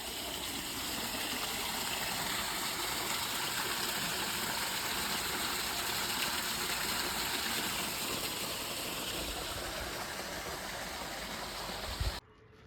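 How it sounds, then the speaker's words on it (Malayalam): Water flowing continuously through a green irrigated area in a desert region, a steady broad rushing hiss with a low engine-like hum underneath, unbroken and moderately faint, no talk. "എപ്പോഴും വെള്ളം പൊയ്ക്കൊണ്ടിരിക്കുക."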